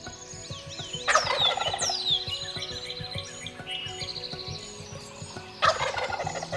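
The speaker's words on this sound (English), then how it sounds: "We can actually see him while he's on the limb and he's gobbling like crazy." A wild turkey gobbling from its roost on a tree limb at dawn in Missouri timber, two loud rattling gobbles a few seconds apart, ringing out over a background of birdsong.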